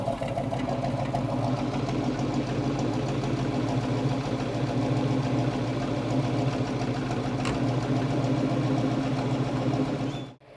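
A 1957 Chevrolet Corvette with a straight-through dual exhaust idles steadily up close, its deep rumble continuous and even until it cuts off abruptly at the end.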